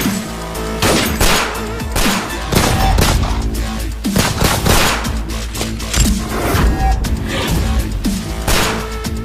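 Loud, dense gunfire in a dramatic action scene: rapid overlapping shots and bursts continue without a break for about nine seconds, mixed with booming low rumble.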